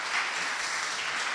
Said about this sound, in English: round of applause for the amazing speakers